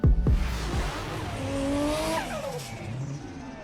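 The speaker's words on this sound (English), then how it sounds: "these 3-litre TDIs with a straight pipe sound bloody immense" Straight-piped Audi 3.0 TDI diesel revving hard, a loud close exhaust roar with rising and falling pitch sweeps and a brief squeal-like tone, sustained without talk.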